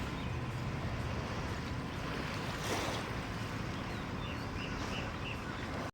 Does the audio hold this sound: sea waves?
yes